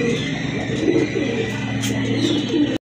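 Pigeons coo steadily at a Bangladeshi pigeon sale offering a matched pair of Gola pigeons, a low throaty burbling that carries on continuously under a background hum and cuts off abruptly near the end.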